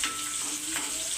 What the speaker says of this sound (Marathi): आता लसूण थोडं परतला की त्याच्यामध्ये आपण मिरची कापलेली ती घालायची